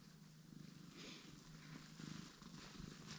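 A cat purrs softly and steadily in a garage where a 40-year-old engine is being fitted with its transmission; the low, even rumble is faint and continuous, with no talking over it.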